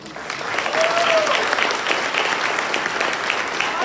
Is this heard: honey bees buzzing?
no